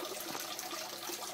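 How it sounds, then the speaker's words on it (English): Water flows through pipes in a hydroponic greenhouse, a soft continuous trickle and gurgle heard close up, with no talking. "there's water flowing through there"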